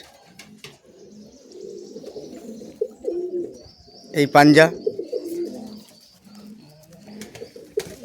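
Giribaz pigeons, including Kaldam and Elahabadi birds, coo at close range in a home loft, with a brief louder flutter or call burst midway while someone talks over them.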